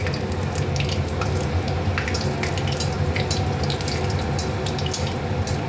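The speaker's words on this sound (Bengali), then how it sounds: "তেলটা গরম হয়ে গেছে, শুকনো লঙ্কা ফোড়ন দিলাম, তেজপাতা দিলাম" Dried red chilies and bay leaves sizzle in hot oil for a tempering, a steady close crackle and hiss with small sharp pops scattered throughout, no voices.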